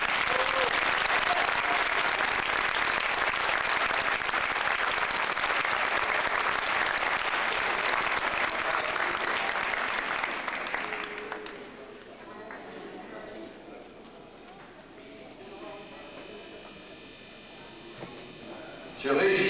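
Applause from an audience in a hall: dense, loud clapping fills the first ten seconds, then drops to scattered faint claps and quieter room noise, with a brief loud burst at the very end.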